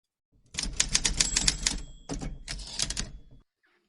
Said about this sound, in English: Ludgie, give us a typewriter, please, and take it away, Jason.